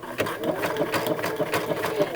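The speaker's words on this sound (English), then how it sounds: "I'm going to lower it down and then begin sewing." A sewing machine runs through fabric in a steady, rapid stitching rhythm, its needle clatter close and continuous for a couple of seconds with no talk over it.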